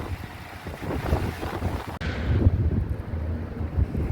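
Strong wind carrying a sandstorm, a loud, continuous roaring buffet that batters the microphone and swells harder partway through.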